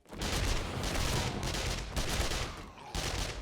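Submachine gun fire in the zombie survival game 7 Days to Die comes as loud, dense bursts of rapid shots, three long bursts separated by brief pauses.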